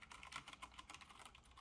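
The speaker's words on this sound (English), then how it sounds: "You can hear some noise when the key actually bottoms out." Fast typing on a CD108 mechanical keyboard with Cherry MX switches, keys bottoming out in a quiet, steady patter of soft clacks, close by with no talking.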